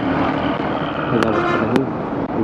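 Steady road traffic on a Cox's Bazar highway, cars and tomtom auto-rickshaws rumbling close by, with two short sharp horn toots cutting through the continuous engine drone.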